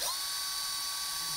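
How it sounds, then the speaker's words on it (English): A drill bit bores into a safe in a workshop, a steady high-pitched whining grind that runs unbroken and close up. "Drill bit broke. I'm gonna have to grab another drill bit."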